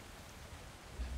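Steady heavy downpour of rain in the video game ATLAS, a continuous hissing wash of drops with a low rumble swelling near the end, no talk over it.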